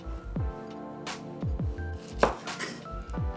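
A knife chops vegetables for Filipino pancit bihon on a cutting board, sharp close knocks in small irregular bursts with pauses between.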